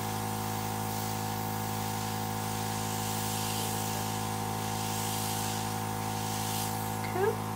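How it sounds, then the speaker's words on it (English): Airbrush spraying Dinair water-based makeup beneath the eye gives a steady, close, even hiss that runs unbroken throughout, with a faint constant hum underneath. "I'm gonna go ahead and spray the bottom of my eye"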